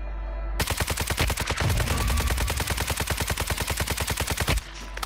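Rapid automatic gunfire from the mobile shooter Call of Duty Warzone Mobile rattles in a long, loud, evenly spaced burst of about four seconds, then cuts off abruptly.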